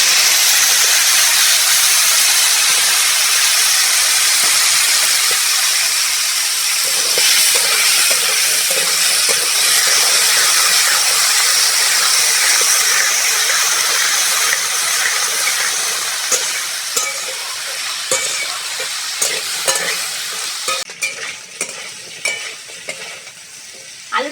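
Potatoes for jhinge posto fry in hot oil with a loud, steady hissing sizzle close by, growing patchier and crackling toward the end as they are stirred.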